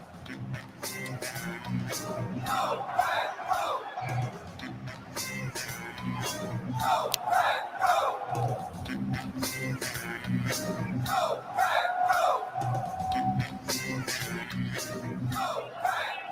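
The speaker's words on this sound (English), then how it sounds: "Listen to this crowd." A large stadium crowd at the NFL Draft roars and yells in sustained waves after a wide receiver pick for the Packers, with loud swells of shouting rising and falling over a steady din.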